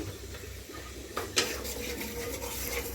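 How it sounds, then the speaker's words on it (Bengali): Spice paste stirred and fried in a pan on a stove, a steady scraping and clinking of a utensil against the pan under a low sizzle, with a couple of sharper knocks partway through. "এই যে আমি ইঁচুলাতে মশলাটা কষিয়ে দিচ্ছি"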